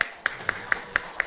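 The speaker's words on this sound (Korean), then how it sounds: "이 중간에 축하 박수 쳐주면" A short burst of six evenly spaced claps, crisp and fairly close, from a congregation giving celebratory applause at a church gathering for a couple's wedding announcement.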